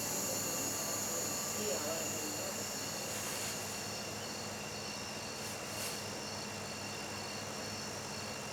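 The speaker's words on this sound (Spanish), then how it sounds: "The roar of small aircraft in the sky above" A small aircraft drones continuously overhead, a steady broad engine roar filling the air for the whole stretch with no breaks, distant but dominant.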